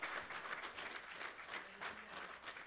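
A church congregation bursts into thunderous applause, a dense steady clatter of many hands clapping together, fairly distant and moderately quiet, with no talk over it.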